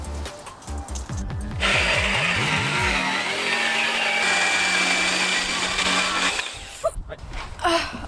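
Power tool cuts plywood for a van subfloor, a loud continuous whining saw run lasting several seconds after a motor spin-up, with the blade sound dropping away at the end.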